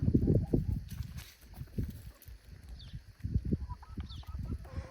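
A young rooster in a backyard flock of chickens crows in short, fairly faint bursts among scattered clucks and a few low background voices.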